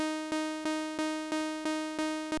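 Plain Serum saw wave synth note with no glitch effect, a bright buzzy sustained tone pulsing in steady even volume swells, loud and alone.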